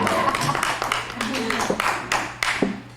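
A small audience at an evening entertainment show claps lightly, a few scattered, uneven claps over steady room noise.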